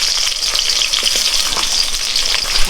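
Onion is tipped into chillies frying in a pan, producing a loud, close, continuous hissing sizzle with faint crackles and light stirring, and no voices.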